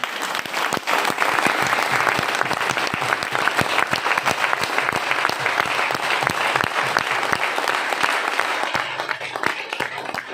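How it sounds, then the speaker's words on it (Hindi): A seminar audience at a motivational talk claps loudly with both hands raised. Vigorous, dense applause from many people continues steadily throughout, close and strong. "एक बार दोनों हाथ ऊपर करके उनके अभिवादन में एक बार जोरदार तालियां होनी चाहिए"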